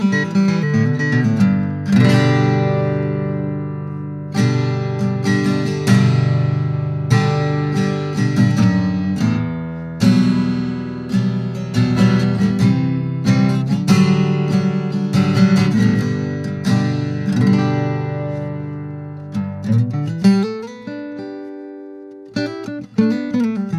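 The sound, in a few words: Taylor acoustic guitar played unplugged, sapele body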